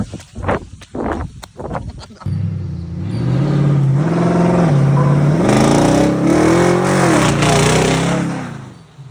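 A pickup truck engine revs up during a drift. A few irregular knocks and thumps come first, then a loud, sustained engine drone climbs and dips in pitch.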